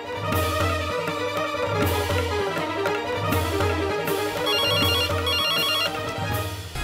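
A telephone ringtone sounds in a Hindi TV drama scene, playing as a loud, steady, melodic ring with repeating tones for several seconds and no one talking over it.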